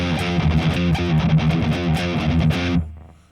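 Dry electric guitar riffing through an amp rig modelled on a 6505, distorted and loud, played in a steady chugging rhythm before the notes cut off and ring out into near silence.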